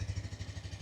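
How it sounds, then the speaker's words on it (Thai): Exhaust of a 2025 PG1 motorcycle at idle, a soft, even low thump pulsing at a steady rhythm, quiet and close, alone with no talk. "คราวนี้มาฟังเสียงท่อตอนเดินเบากันบ้าง"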